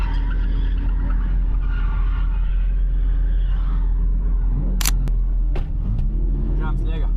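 A car drifts with its tyres skidding, a constant engine rumble running under talking voices, followed by a few sharp squeals and scrapes near the end.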